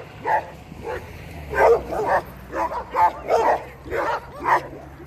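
Several dogs bark and yip in short bursts, fairly close, on a mountain along the Continental Divide Trail, with a pause then a steady run of barks over a faint background hum.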